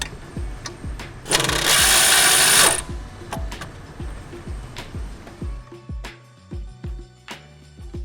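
Work on the rear suspension of a 2016-2022 BMW 740i, with a burst of loud impact-wrench whirring on the lower strut bolt and then repeated sharp ratchet clicks and metallic taps close by.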